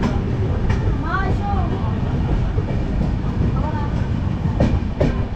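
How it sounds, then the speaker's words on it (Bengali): The New Delhi Rajdhani Express passing near Bardhaman, a loud continuous rumble of wheels and carriages close by, with squealing metallic tones and rhythmic clatter throughout. "নিউ দিল্লি রাজধানী। এই রাজধানী সবে যাচ্ছে বর্ধমান ছেড়ে।"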